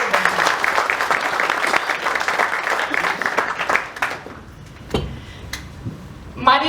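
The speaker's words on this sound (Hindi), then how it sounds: "सबकी जोरदार तालियां तो बजाएं।" An audience at an Indian film-industry honouring ceremony applauds, dense clapping for about four seconds that dies away into a few scattered claps and quiet room noise.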